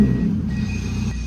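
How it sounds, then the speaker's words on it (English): Low idling engine of a drift car rumbles close and loud while the car backs out of a shop, its twin plate clutch adding a steady rattling chatter underneath, with no speech over it. "That is the sound of a twin plate clutch."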